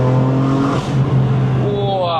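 A 600-horsepower BMW M4 accelerates on a mountain road to Genting Highlands in Sport Plus mode, its engine note rising steadily and loud from close up inside the car.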